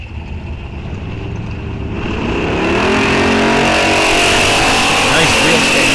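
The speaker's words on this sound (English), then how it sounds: "Monte Carlo versus 69 Dart GT." A Monte Carlo and a 1969 Dart GT race side by side on a drag strip, their engines roaring louder and rising in pitch as they accelerate hard from the line.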